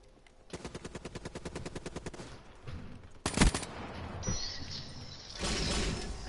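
Gunfire in the video game Black Ops 3: a rapid automatic burst of evenly spaced shots, then a sharp loud blast and a rougher, noisier stretch of further firing and impacts, with no voices.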